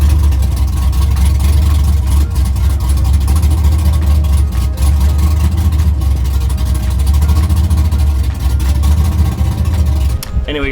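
A car engine idles steadily after a transmission rebuild, a loud continuous low rumble that stays even throughout with no revving.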